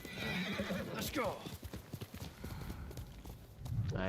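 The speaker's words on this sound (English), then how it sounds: "You're a good horse, Nobu." Video game horse galloping with steady clip-clop hoofbeats and a sharp neigh, loud and close, while a player talks over it.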